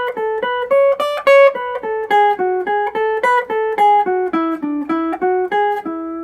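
A Mixolydian scale is played as four-note runs that alternate descending and ascending, with clear, evenly spaced tones that climb and fall in groups, loud and close with nothing else audible.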